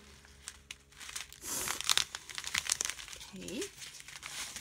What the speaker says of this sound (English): you just fold it